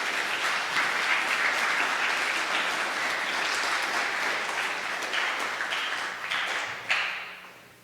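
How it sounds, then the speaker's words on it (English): An audience at a school assembly applauds, sustained steady clapping that swells, holds, then tapers off with a last few claps. "Let's give him a round of applause."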